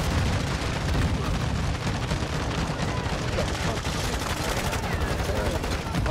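Dense, continuous gunfire in the shooter game Modern Warfare III, rapid overlapping shots and bursts forming a loud, unbroken barrage with a few distant booms mixed in.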